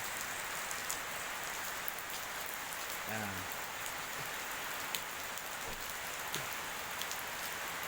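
Heavy rain pours steadily across Indonesia, a dense, even wash of falling drops with a few louder splashes and a brief faint tonal sound partway through.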